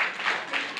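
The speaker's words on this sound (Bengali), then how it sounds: "একটু জোরে হাততালি দাও অভিষেক বাবুর জন্য" An audience at a yoga physique event claps in a dense, continuous burst of applause, loud and close throughout a short moment.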